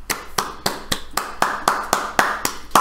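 Hand clapping at a steady, even pace, about eleven sharp claps in quick succession, fairly close and on their own.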